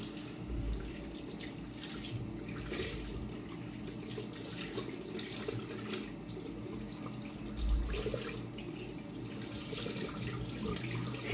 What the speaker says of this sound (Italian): Allora, sciacquiamo il viso.